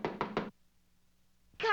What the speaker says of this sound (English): Just then there was a knock,